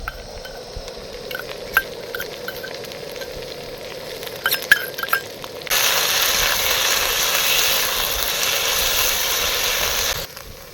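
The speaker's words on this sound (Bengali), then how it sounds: "এবার আদা রসুন আর লঙ্কা বাটাটা দিয়ে দিলাম" Ginger, garlic and chili paste hits hot oil in a pan with prawns and onions, giving a steady loud sizzle that jumps in intensity midway, with scattered clinks and stirring scrapes early on.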